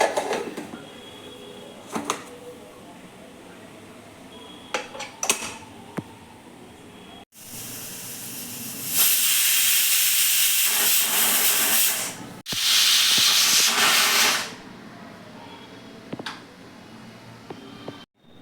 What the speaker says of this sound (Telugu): కుక్కర్ మూత పెట్టి 3 విజిల్స్ రానివ్వాలి.